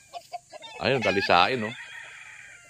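Chickens give a few short clucks, then a rooster crows loudly and close in two drawn-out bursts, with someone speaking briefly around them.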